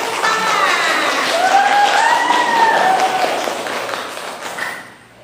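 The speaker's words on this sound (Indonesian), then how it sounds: "Oke, beri tepuk tangan." Group applause from a class after student introductions during a school teaching assessment, steady clapping with some overlapping voices and whistle-like tones, fading out near the end.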